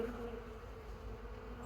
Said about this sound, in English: That's a mother of a wasp.